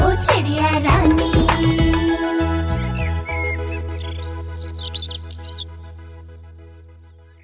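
Bird chirps and whistled tweets in a Hindi children's rhyme about a bird, bright and close over a steady musical backing, with flurries of calls in the latter half that thin out and fade.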